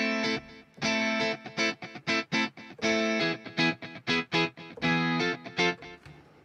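A distorted, doubled electric guitar plays a choppy funk riff in drop D tuning, with short stabbed chords separated by brief gaps.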